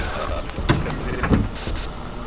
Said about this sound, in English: Now your airlock is actually doing something.